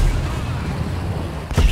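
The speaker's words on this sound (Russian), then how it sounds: "вот если я стреляю, видите, вот он как бы просто подпрыгивает и все" A tank cannon fires in the War Thunder video game, a single loud boom near the end after a steady rumbling engine bed.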